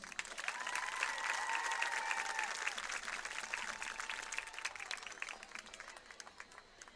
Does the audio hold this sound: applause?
yes